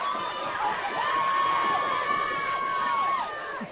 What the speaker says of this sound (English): Crowd is in it.